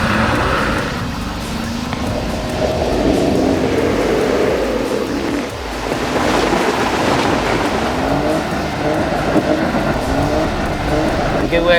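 A 2017 Jeep Wrangler Rubicon with Deegan38 armor and a 4-inch lift churns through mud, its engine a loud, steady roar with rising and falling revs throughout.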